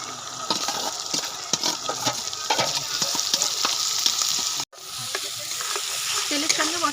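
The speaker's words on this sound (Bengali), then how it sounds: "তেলের সঙ্গে মশলাটা কষিয়ে নিয়েছি" Spices sizzle and fry in oil and ghee for a chicken chop masala, a steady crackling hiss with repeated stirring scrapes throughout and a brief break near the end.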